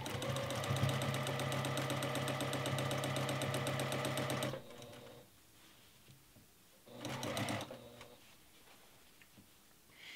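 Sewing machine stitching steadily during free-motion quilting across the edge of a quilt, a loud continuous rapid mechanical chatter that stops abruptly, followed by quiet room tone and a second short burst of stitching.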